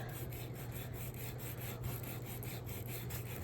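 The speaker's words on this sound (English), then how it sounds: "I pull out my Tim Holtz sanding disc and like I sand" Steady scratchy rubbing of a Tim Holtz sanding disc across a paper craft tag, continuous and close, with a low hum underneath and no talking.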